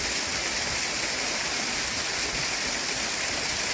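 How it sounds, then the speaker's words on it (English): A hill burn rushes steadily into a small waterfall, giving an unbroken, loud broadband hiss of pouring water close by with no other sounds. "This is the burn, which turns into this small waterfall, which feeds the tanks."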